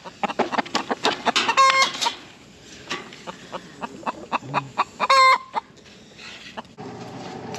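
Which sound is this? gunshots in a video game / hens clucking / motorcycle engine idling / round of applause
hens clucking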